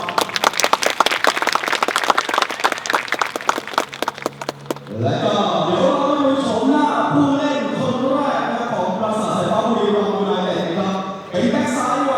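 Audience at a Buriram United football club press conference breaks into sustained loud applause welcoming the club president, following a stretch of sharp rhythmic clapping that swells into a dense, steady wash of clapping and crowd noise.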